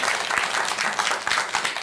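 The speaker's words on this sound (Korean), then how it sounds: "박수 한번 쳐주세요" An audience at a Buddhist lecture gives a short burst of applause, many hands clapping together in a full, continuous patter with no break.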